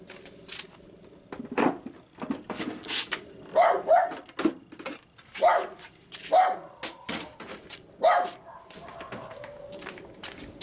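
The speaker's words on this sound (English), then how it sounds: "every single time I come out here my fucking neighbor's dog barks at me" Neighbor's dog barking outdoors, a string of sharp barks at irregular intervals across several seconds, moderately distant, with some rustling and handling noise between them.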